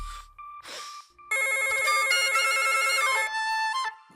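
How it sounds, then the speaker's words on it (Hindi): A telephone bell rings loudly in a steady, repeated electronic trill, with brief gasps and faint movement just before it, then cuts off near the end. "फोन उठा"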